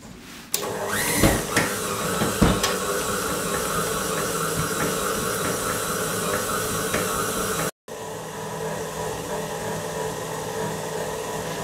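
A stand mixer with a dough hook kneads croissant dough, a steady loud motor whir and hiss with a few knocks early on, running continuously apart from a brief cut near the end.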